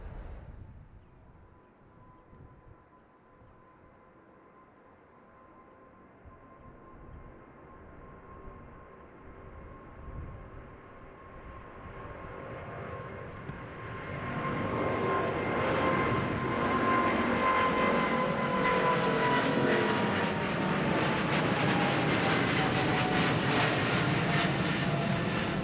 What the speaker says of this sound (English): And the KLM Boeing 777-200 going to JFK.